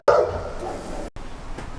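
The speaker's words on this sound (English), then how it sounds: "He'd been up here yapping to the neighbors." A dog barks loudly up close on a porch, a sharp bark right at the start trailing into a few softer yips and whimpers over a second or so.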